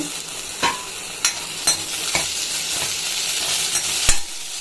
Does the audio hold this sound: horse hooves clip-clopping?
no